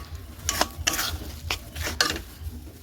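Coconut filling stirred in a pan with a utensil, giving a series of scraping strokes against the metal, close and distinct with no talking.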